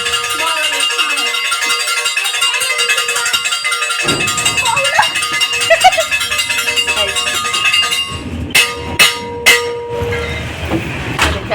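A toy train carrying passengers rattles and clatters along in Odisha, with people talking loudly over the steady rumble and a few sharp knocks toward the end.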